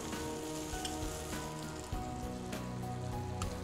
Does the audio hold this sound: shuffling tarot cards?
no